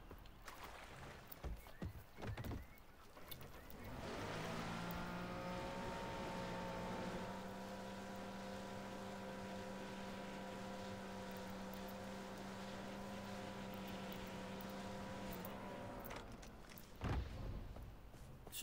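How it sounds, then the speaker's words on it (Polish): Jet ski engine in the video game Far Cry 4: a steady, droning motor hum sustained for most of the stretch, fairly faint, with scattered clatter before and after. "Ale na szczęście mamy skuter."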